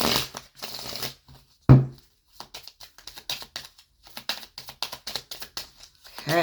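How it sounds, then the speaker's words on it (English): Oracle cards being shuffled by hand, a quick run of crisp riffling flicks and soft slaps in irregular bursts, close and fairly loud with short pauses between runs and no talking. "let us get some oracle cards going"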